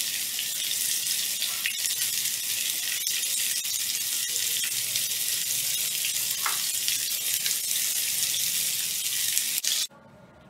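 Boneless chicken frying on low heat gives a steady, even sizzle with a few faint clinks, holding level for about ten seconds before cutting off abruptly.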